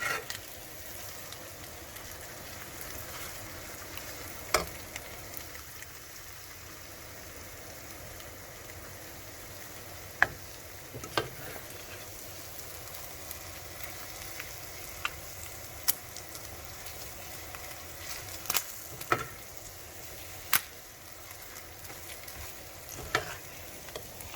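Egusi fries in a pot with paprika and pepper, giving a soft, steady sizzle with scattered small pops and crackles throughout, fairly quiet and close with no talking.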